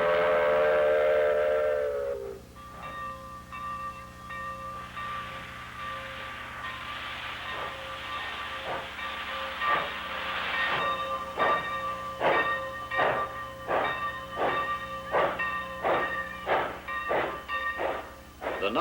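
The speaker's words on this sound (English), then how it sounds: "One blast on the whistle and away for her final run up the hill." A Baldwin Mallet 90-ton superheated steam locomotive, used on a 1962 logging railroad, gives one long whistle blast, then starts uphill with a sharp staccato exhaust whose chuffs grow steadily louder and more regular.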